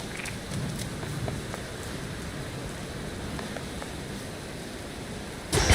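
Steady rain falling in the underworld action game Hades II, a soft continuous patter and hiss that holds evenly throughout, with a brief louder burst right at the end.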